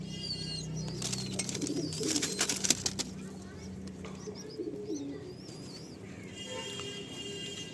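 Pigeons kept in a home coop, soft repeated cooing near and far with a burst of wing flaps and rustling early on, plus scattered higher chirps from other birds; low talk passes faintly in the background.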